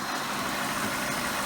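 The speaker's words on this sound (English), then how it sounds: "You hear how smooth that engine runs now that it's warmed up." A warmed-up 2003 Cadillac Deville DHS engine idles at close range, a smooth, steady low hum without stumbles.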